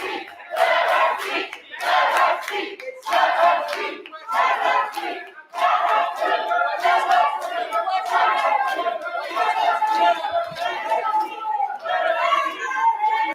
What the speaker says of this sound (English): I'm confused right now of if if the crowd is saying let her speak or let him speak